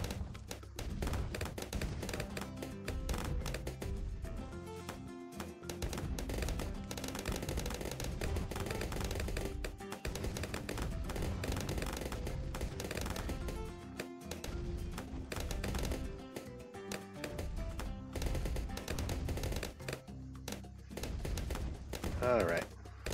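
Rapid gunfire from Bloons TD6 gameplay as a sniper monkey is upgraded to large caliber and deadly precision, repeated sharp shots running steadily throughout amid dense game music and effects, with a voice talking over it.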